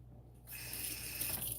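Water drizzled onto parchment paper in a pan starts abruptly after a short pause, then runs as a steady, soft hissing stream close by.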